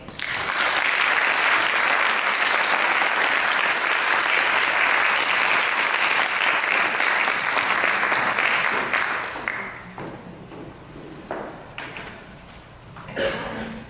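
Sustained applause from a live audience greeting guests at an evening talk, loud and dense for about nine seconds before thinning into scattered claps and fading.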